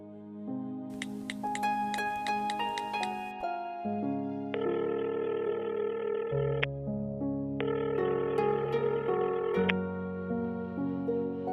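A melodic electronic phone tune plays on and on, shifting through steady synthetic notes with no one picking up or speaking.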